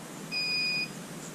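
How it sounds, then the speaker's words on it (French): A short, high electronic double-tone beep from a hoverboard detecting a foot sounds once for about half a second over a steady background hiss. "Dès que vous entendez des bip, c'est que l'overboard détecte votre pied."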